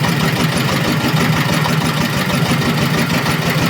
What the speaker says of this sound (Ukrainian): ручний е, газ ну, на холостих оборотах. І зараз будемо е, тестити, які ж його холості обороти